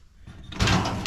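A drawer of a tan file cabinet slides open: a faint rustle first, then a louder scraping slide and clunk as it pulls out, heard close up with no talking.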